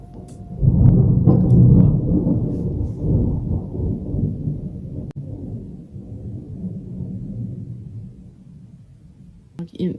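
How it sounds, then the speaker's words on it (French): Thunder from a thunderstorm rolls in as a deep, loud rumble that swells in the first seconds, then grinds on in a lower, uneven roll before fading, with no talk over it. "Maintenant, il y a l'orage qui vient de frapper."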